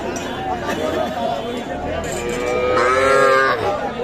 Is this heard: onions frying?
no